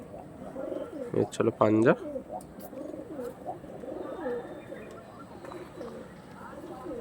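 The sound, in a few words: pigeons cooing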